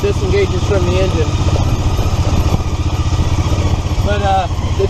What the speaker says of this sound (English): That sound you hear is when the torque converter disengages from the engine.